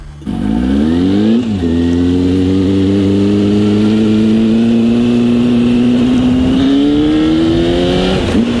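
Cars including a newer Mazda and an older BMW rev and accelerate nearby, giving a loud, sustained engine roar whose pitch climbs steadily after a brief dip, with a small rev blip at the end.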